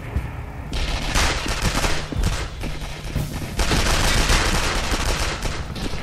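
Rapid gunfire aimed at the player in the shooter Sniper: Art of Victory, a loud, dense fusillade of overlapping shots and bursts that continues for several seconds without pause.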